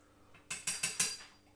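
A knife slices open an egg, ham and cheese toastie with sweet chilli sauce, giving four quick, crisp crunches close by in a steady rhythm, with no voices.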